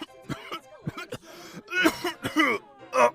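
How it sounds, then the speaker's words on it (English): A man in a Western saloon setting throws back a drink and splutters into a fit of coughing, several harsh bursts at close range. "Jed throws back his drink and then erupts into a spluttering cough."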